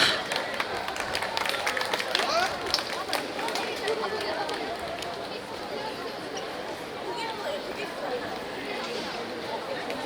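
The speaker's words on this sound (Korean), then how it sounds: "박수 부탁드립니다." Dense, fairly loud crowd applause and excited chatter greet a youth dance team taking the stage, sustained without pause and fading a little toward the end.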